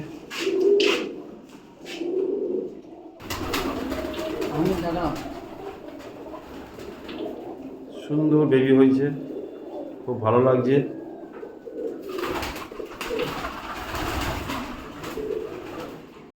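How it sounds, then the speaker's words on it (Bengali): Pet pigeons coo in short, throaty rolling phrases, several separate bursts close by, while someone talks intermittently over and between them. "তো আর একবার পায়রাগুলো দেখে দিই আপনাকে"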